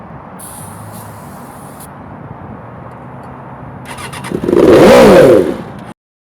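A Suzuki GSX-750 motorcycle engine, fed ether, sputters briefly to life and revs loudly for about a second before cutting out, following a stretch of low background hum.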